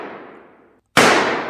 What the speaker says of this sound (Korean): 어디선가 총소리가 들려왔습니다